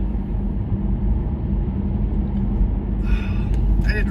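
A car drives along behind a landscaping truck, with a steady low road and engine rumble inside the cabin and faint higher rattles near the end.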